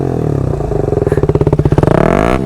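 A KTM Adventure motorcycle engine revs up loud and close, a pulsing rhythmic beat that quickens and climbs in pitch before dropping back, heard alone without talk.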